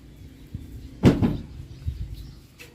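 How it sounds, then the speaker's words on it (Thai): A door closes with one sharp, close thud, followed by a softer rattle and a few faint knocks, over a quiet indoor background with a bird chirping faintly. "ปิดประตูให้ป้าหนะลูก"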